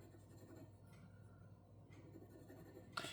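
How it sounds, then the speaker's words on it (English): A glass dip pen writes on HP 32 paper with Ferris Wheel Press ink, giving a soft, continuous scratchy drag for about three seconds, with a sharper tap or scrape near the end. "the glass pens tend to have like one side where they write better than the others"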